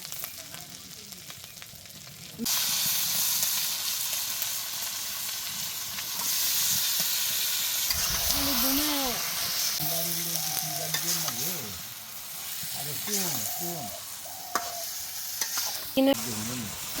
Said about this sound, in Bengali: মাংসটা কষাইতে নিচ্ছি ভাসিয়ে নিতেছি